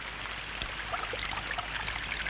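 Rain falls in a soft, steady patter with scattered drip sounds, faint and continuous, with no voices.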